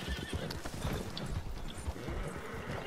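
A horse gallops with rapid clip-clopping hooves and neighs loudly in the video game Red Dead Redemption 2, its hoofbeats close and busy amid other game noise.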